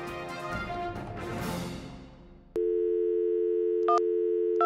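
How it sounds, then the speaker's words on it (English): A cartoon phone call fails: after a stretch of background music, a loud steady busy-signal tone sounds alone, with two short higher beeps breaking in near the end. "I better call Pluto for help"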